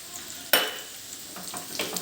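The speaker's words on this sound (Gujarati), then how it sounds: "હવે ગેસની ફ્લેમ બંધ કરી દેવાની છે અને એમાં 1 ટેબલસ્પૂન જેટલા તલ એડ કરીશું." Sesame seeds hit hot oil with chillies for a dhokla tempering, a sudden sharp crackling burst followed by lighter spattering pops and sizzle over about two seconds, close up with no talk.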